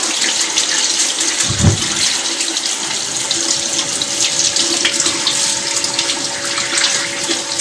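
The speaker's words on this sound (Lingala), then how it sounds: "Na kosukola maboko na ngai pour maboko ezala propre" Hands being washed under a running tap, a steady loud hiss of flowing water splashing into a sink, with one brief low thump partway through and no voices.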